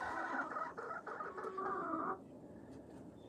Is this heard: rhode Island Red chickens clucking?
yes